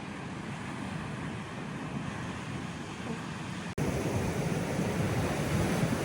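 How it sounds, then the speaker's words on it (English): Ocean surf washes over and around the basalt rocks of the Giant's Causeway on the Northern Ireland coast, a steady loud roar of waves and wind noise that swells louder near the end, with no talking. "some of these rocks are getting waves over the top of them"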